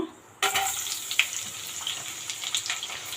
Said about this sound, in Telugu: నేను అదే ప్యాన్లో ఒక త్రీ స్పూన్స్ ఆయిల్ వేసుకున్నాను ముందుగా ఆనియన్స్ వేపుకుందాము